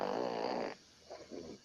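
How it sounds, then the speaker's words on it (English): A person snores once loudly with a long rattling inhale, then gives two softer, breathy snorts, close and alone with no talk. "Somebody snoring on your live."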